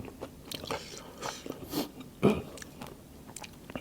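Someone eating crispy pork with mixed papaya salad, close-up crunchy bites and chewing in a few distinct bursts, the sharpest crunch near the end, with no talking.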